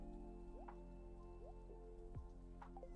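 Rain falls in the farming video game Stardew Valley as faint, soft drips and patters over a low game background tone, with no talk.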